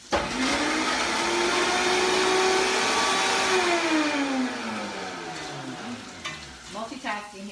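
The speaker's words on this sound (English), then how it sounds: "We're gonna put that in the blender." A kitchen blender runs near a stove while lasagna is being made, whirring loudly with a steady motor whine. The pitch rises and then sags, and the blender cuts out into bumps and knocks near the end.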